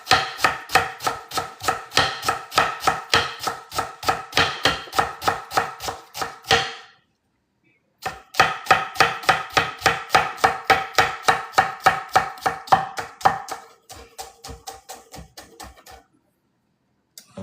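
A serrated knife chops cabbage on a cutting board in a fast, steady run of crisp strokes that pauses briefly, resumes, then slows into a few sparser cuts near the end.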